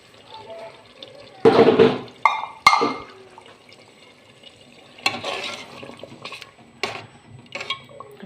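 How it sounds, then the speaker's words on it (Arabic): A freekeh soup base fries in a pot, with bursts of sizzling and clattering of the pot and utensils at close range, followed by quieter stirring and scraping. "هكذا خليها تقلى مليح"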